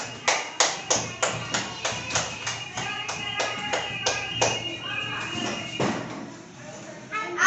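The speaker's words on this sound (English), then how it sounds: "start clapping" Children clapping hands during a classroom game, steady rhythmic single claps, about a dozen evenly spaced, then more scattered claps and shuffling as the rhythm breaks down, with voices in the room.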